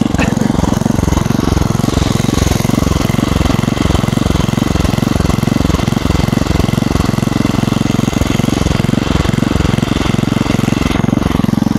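An original Merry Tiller chain-drive tiller's small engine runs steadily and loud, with a rapid knocking, jackhammer-like chatter throughout and no pauses.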